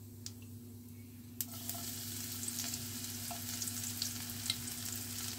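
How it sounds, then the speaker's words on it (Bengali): Onion and garlic frying in a pan with black pepper and cumin, a steady close sizzle over a low hum, with a few sharp spatula taps and stirring scrapes. "পেঁয়াজ আর রসুনটাকে একটুখানি ভেজে নেব।"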